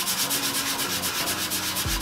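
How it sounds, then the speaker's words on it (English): Steady rubbing and scouring of a scotch pad over a wet Blackstone 36-inch steel griddle top, clearing rust in a continuous back-and-forth rhythm, close up and alone with no talk. "Just give it a nice, good scrubbing there."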